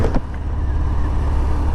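A 2019 Harley-Davidson Fat Bob 114 motorcycle being ridden on a chilly autumn day lets out a loud, steady, close engine rumble that holds even throughout, with no voices.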